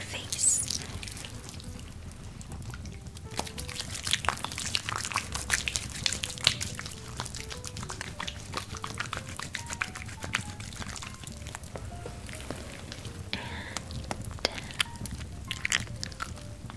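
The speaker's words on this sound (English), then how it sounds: "Always want to lather it up in your hands before it touches the skin on your face." Soft wet squelching and slippery friction of skincare cleanser being lathered between hands, close and intimate, with intermittent drip-like clicks and gentle rubbing continuing under a faint whisper.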